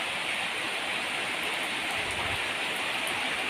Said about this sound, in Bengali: এই দেখো প্রচণ্ড বৃষ্টি হচ্ছে